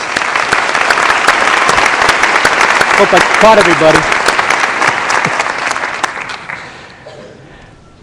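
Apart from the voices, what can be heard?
audience applause at a winter commencement ceremony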